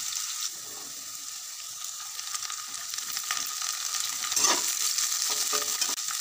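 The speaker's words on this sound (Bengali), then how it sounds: "আলুটা দিয়ে এইভাবে কিছুক্ষণ নাড়াচাড়া করে ভেজে নেওয়ার পর দিয়ে দিচ্ছি ক্যাপসিকাম" Potatoes and capsicum stir-frying in refined oil for egg chowmein, a bright steady hiss that swells midway, with intermittent spatters and a few stirring scrapes.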